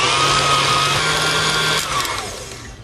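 A kitchen blender whirs steadily at high speed, blending a mixture that includes Kerrygold butter, with a loud continuous motor drone that eases off slightly toward the end.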